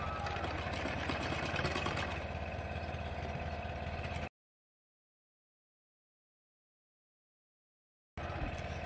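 A sewing machine runs steadily for about four seconds while restitching a blouse sleeve seam for strength, then goes silent and starts up again briefly near the end.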